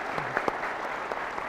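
Audience at a political event clapping, a brief dense patter of many hands with a few sharper claps standing out, steady and moderately close.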